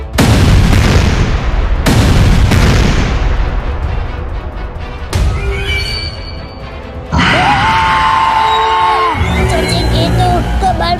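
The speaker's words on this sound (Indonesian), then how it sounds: "Waduh, polisi Iyo, kok tembakan kita gak mempan ya polisi Iyo?" Bursts of heavy gunfire and booming blasts in a game, loud and repeated, with electronic effects and tones layered over the later part.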